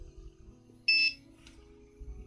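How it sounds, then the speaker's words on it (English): A Sovol SV06 3D printer gives one short, clear electronic beep after its settings are stored, sounding over a low machine hum in a quiet room. "Ah, beeped at me."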